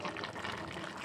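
Mustard and poppy seed paste is poured into a pan of shukto, making a brief, soft, wet sloshing pour up close that lasts only a moment.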